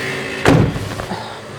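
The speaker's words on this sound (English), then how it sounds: "shut the door" The door of a 1941 Diamond T 980 truck is shut with a single solid slam near the microphone, followed by a brief rattling settle in an otherwise quiet space.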